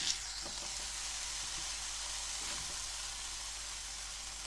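Squid sizzling on a hot griddle, a steady, bright hiss of frying that stays even and close throughout, with faint stirring or scraping touches and no talk.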